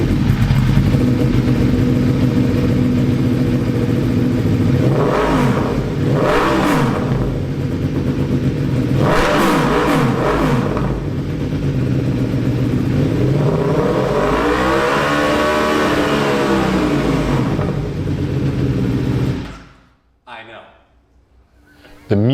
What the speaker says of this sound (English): The music you just heard was coming out of these amazing machines' V4 engine